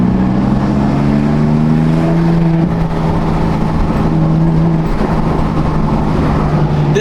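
A BMW M4 engine fitted with front mount intakes runs loud and steady, its turbos spooling with rising and falling tones layered over a continuous close engine drone.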